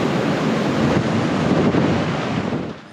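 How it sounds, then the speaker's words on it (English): Steady wind gusting at a coastal lookout near Narooma, a broad, continuous roar with surf-like rushing and microphone buffeting, loud and unbroken for the whole stretch with no voices. "It's a little bit breezy out there"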